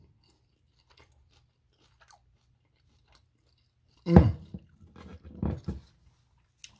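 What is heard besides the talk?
chewing crunchy saltfish fritters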